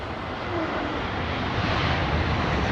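An old Boeing 747-400 freighter at London Heathrow Airport gives a steady, loud roar of jet engines that fills the whole stretch without a break.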